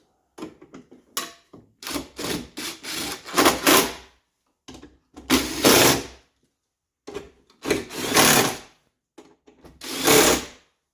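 A power tool working on the metal inner panel of a 2011–2015 Chevrolet Cruze driver-side front door during a window regulator replacement, in several loud, rough bursts of a few seconds each with short pauses between them.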